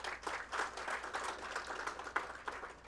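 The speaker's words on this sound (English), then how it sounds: "So a round of applause for them." Audience applause at an institute foundation day and closing ceremony, a lively mix of many hands clapping at moderate distance, with irregular swells and a few sharper claps standing out.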